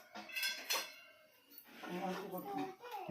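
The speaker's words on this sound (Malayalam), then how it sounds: "ഇത് മൂടി വെക്കാം" A lid is set onto a pot of jackfruit payasam simmering on the stove, giving a few close metallic clinks and clatters while a voice talks throughout.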